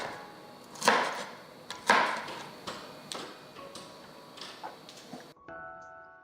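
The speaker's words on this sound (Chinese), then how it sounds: "稍微切碎一下" A knife chopping carrot shavings on a cutting board: a few stronger knocks, then lighter, evenly spaced taps, close and fairly soft.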